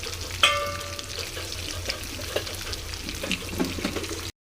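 Masala-stuffed brinjals sizzling in hot oil with curry leaves and cumin, a steady crackling hiss after an opening splash as they hit the pan, with scattered pops and spatula clinks throughout.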